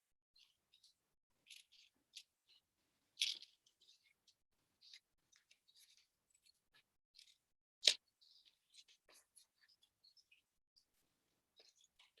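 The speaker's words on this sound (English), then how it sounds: "And I have cut both my rockets." Scissors snipping through paper to cut out small paper rockets, a scattering of quiet, crisp snips spread over the stretch, with two sharper louder cuts standing out.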